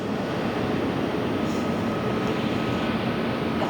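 Iberia Airbus A350 jet taking off at LAX, a steady distant broadband engine roar at low level, continuous and unbroken with no voices over it.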